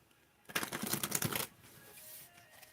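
An oracle card deck is riffled and shuffled up close for about a second, a dense burst of rapid papery flicks and clicks, then a soft low rustle continues.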